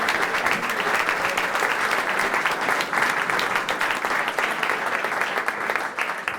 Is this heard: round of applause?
yes